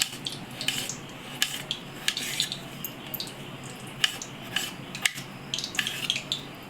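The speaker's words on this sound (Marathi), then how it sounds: "असं बारीक असं टॉमॅटो कापून घ्यायचं आहे आपल्याला" A knife cuts a tomato finely on a board in a home kitchen while oil heats, giving a series of light, irregular taps and clicks up close, with no talking.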